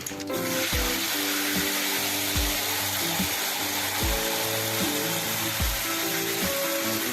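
Steady loud sizzling and bubbling as thick tamarind water is added to a hot pan for ivy gourd puliyogare, with occasional scraping or stirring clatter throughout.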